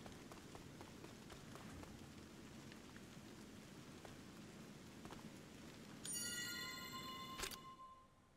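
Steady rain falls in the video game Convergence, a soft continuous patter with scattered drops, before a brief bright chiming flourish and a sharp hit near the end.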